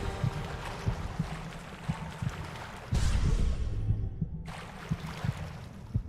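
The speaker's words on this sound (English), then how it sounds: "Guess I get to hear my heart beating on my chest because I'm half dead from poison" Heartbeat effect in The Witcher 2 marking a character half dead from poison, steady thumping pulses repeating at a regular rhythm over a dense background of game ambience.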